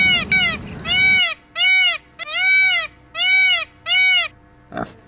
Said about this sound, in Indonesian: Sheep, domba.